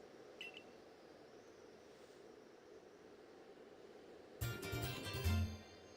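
Arc Phone in the Pokémon Legends: Arceus video game, heard as a short bright electronic beep early on, followed later by a louder burst of layered chiming tones over a faint steady background hum.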